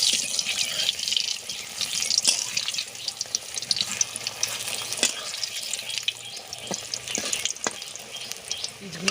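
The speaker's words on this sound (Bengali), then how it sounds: "আমি এই যে মসুরির ডালের ডিমের ধোকাগুলো ভেজে নেব।" Pieces of lentil and egg dhoka fry in hot white oil in a wok, a constant close sizzle with crackles and occasional clinks of a utensil throughout.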